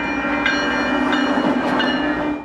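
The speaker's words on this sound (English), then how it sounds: "Trains still pass the building" A train rolls past an old ice storage warehouse building on San Antonio's east side, a steady loud rumble with faint clicks and a sustained tonal drone throughout, no voices.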